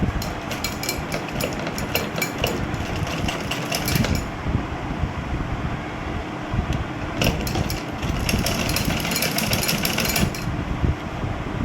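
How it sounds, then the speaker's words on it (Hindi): A sewing machine runs steadily for about twelve seconds, close and loud, stitching the final edge seam along a cuff, its rapid needle rattle dipping briefly midway. "अब इसके ऊपर एक फाइनल सिलाई लगानी है किनारे की, जो मैं लगा रहा हूँ"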